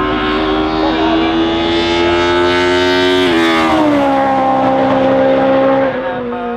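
Ford Escort Mark 1 race car on a hill climb, its engine screaming loud and near, rising through revs, dropping at a gear change, then pulling away again.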